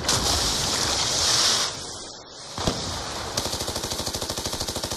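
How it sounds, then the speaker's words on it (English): Gunfire in Call of Duty: Black Ops 2 begins with noisy wash and whoosh sounds, then a fast steady stream of automatic shots rattles evenly through the final seconds, close and loud. "somebody's shooting at me"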